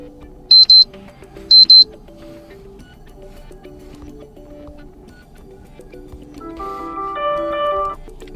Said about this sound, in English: select new alarm sound from this menu